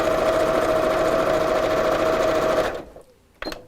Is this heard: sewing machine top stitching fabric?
yes